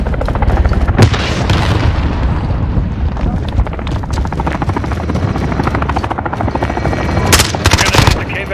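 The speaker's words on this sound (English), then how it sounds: "Enemy chopper gunner on approach." An enemy chopper gunner helicopter in Modern Warfare multiplayer roars loud and close with continuous rotor thrum, punctuated by bursts of heavy gunfire and booming impacts, with voice callouts in between.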